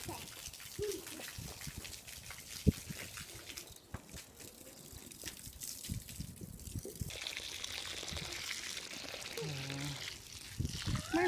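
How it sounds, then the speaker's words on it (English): Running water from a kitchen tap in a home, a steady trickling pour under a person talking close by, with occasional clinks and splashes. "Jasmine, can you turn the water down a little bit?"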